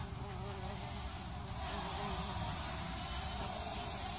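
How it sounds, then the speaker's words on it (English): Large bumblebees buzzing around their nest, a faint, steady droning hum close by with a soft hiss beneath. "There's a couple of these really big bumblebees"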